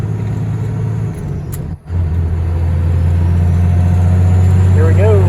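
A truck engine runs steadily while driving and hauling hay equipment, the gears floated without the clutch; a brief dip in engine drone marks a shift before the steady hum resumes, with a voice talking over it near the end.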